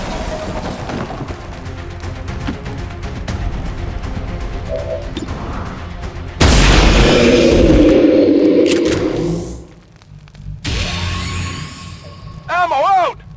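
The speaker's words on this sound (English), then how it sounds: "Taking fire over here!" Gunfire and explosions in the tactical game XCOM, with scattered shots under a voice before a loud crashing blast and rumble, then quieter clatter and a few sharp shots toward the end.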